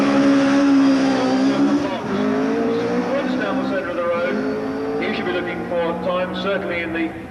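A 4-litre Cosworth DFL-powered race car howls loudly down the centre of the road at a seaside sprint course in Brighton, its engine note rising and shifting as it speeds past, with a commentator talking over it.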